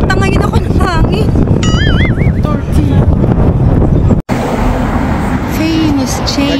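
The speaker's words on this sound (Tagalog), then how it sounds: "Parang tatangayin ako ng hangin." Strong wind buffets the microphone in a coastal city, a loud roaring rumble throughout, with someone talking and exclaiming over it and a brief cut partway through.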